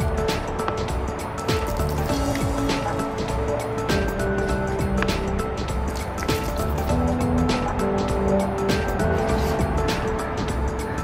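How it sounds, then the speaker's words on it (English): Water runs and drips steadily off a car fender freshly treated with a ceramic waterless car wash, a constant close splashing wash with scattered droplet ticks and no talk. "I want to show you how well this sheets water"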